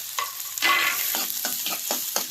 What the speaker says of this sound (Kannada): ಆ ಉಳ್ಳಾಗಡ್ಡಿನ ಫ್ರೈ ಮಾಡ್ಕೋಬೇಕು ರೀ